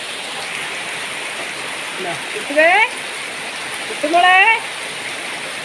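Steady rain pours down in an unbroken, hissing wash, loud and close, while a voice calls out affectionately twice over it.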